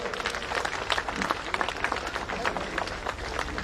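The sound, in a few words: audience applause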